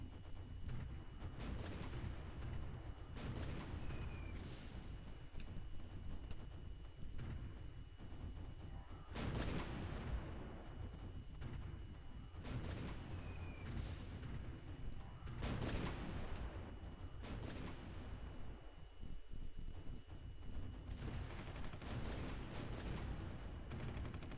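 Artillery fire in the Supreme Ruler Ultimate strategy game: a few dull, muffled booms spaced several seconds apart over a steady low rumble, faint and distant-sounding throughout.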